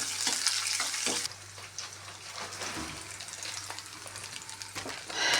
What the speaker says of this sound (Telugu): ఇది వేసిన తర్వాత ఎర్రగడ్డని బాగా మగ్గనివ్వాలి, కలుపుతూ వేగనివ్వాలి